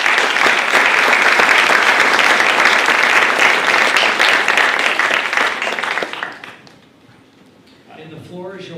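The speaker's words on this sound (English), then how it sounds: "Please give them a round of applause." Loud, dense applause fills a city council chamber after a proclamation naming July 2026 Parks and Rec Month in Chula Vista, sustained for about six seconds before fading out, followed by quieter room sound.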